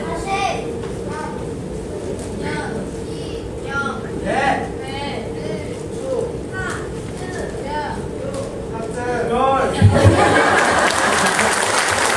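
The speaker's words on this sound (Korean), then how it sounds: "우리 뜨거운 박수" Applause at a Korean Baptist church service for a pastor's installation, with clapping swelling into a loud, sustained burst near the end over steady crowd noise.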